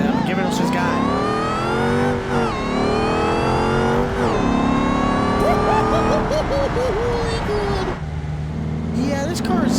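Car driven by the player across canyon trails in Utah in the BeamNG driving game, engine revving and shifting loudly and continuously with whistling tones, a voice talking over it.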